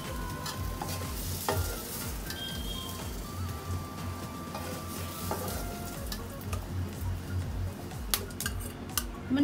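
A ladle of oil sizzles steadily in a pan over a low gas flame while mushroom butter masala is cooked, with repeated close scraping stir strokes of a utensil cutting through the constant frying hiss; no one speaks.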